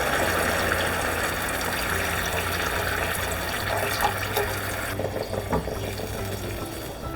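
Water poured steadily into a pan of yam curry with yoghurt, a continuous splashing trickle that runs for several seconds before thinning and breaking into softer drips.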